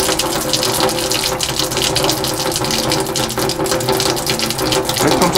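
A water filter tap runs with air in the line, spitting and spattering water in a loud, close, continuous gush with irregular bursts throughout.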